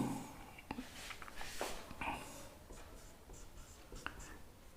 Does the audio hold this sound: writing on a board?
yes